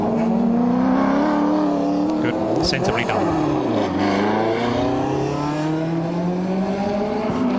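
A Ford Sierra touring car, no longer turbocharged, races at Sandown during the 1993 endurance event, its engine droning and shifting pitch as it passes, under continuous commentary.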